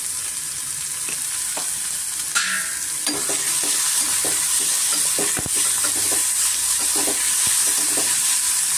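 Onions fry in oil with turmeric in a pan, sizzling steadily up close while a spatula repeatedly scrapes and clinks against the metal in an uneven rhythm.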